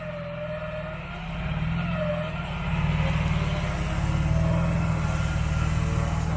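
A 4WD's engine strains hard as it works a rear wheel up a ridge on a steep off-road track near Coffs Harbour, NSW. The loud, continuous low drone swells and holds through the climb.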